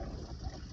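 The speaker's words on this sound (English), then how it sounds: "As you can tell, it's pouring rain." Heavy rain pours steadily in a continuous, dense wash of noise, heard at a fairly quiet level with no talk over it.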